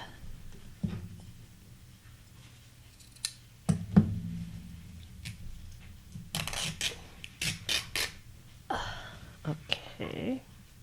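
Fabric scissors snip, then cloth is torn by hand in several short ripping bursts, close by and fairly quiet, with soft handling rustles between them and no talking.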